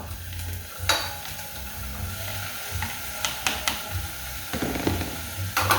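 Eggs are stirred into caramelized onion and leeks in a frying pan, giving a steady close sizzle with a string of short scraping stirs that grow busier toward the end; no one speaks.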